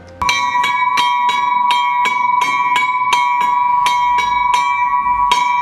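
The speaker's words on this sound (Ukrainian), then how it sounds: "невелику дзвіницю на три дзвони, які відтепер переливчасто скликатимуть людей на служби" A small church bell tower with three bells ringing out loud and near, a steady rhythmic series of about a dozen bright metallic strikes with sustained ringing tones and no talking.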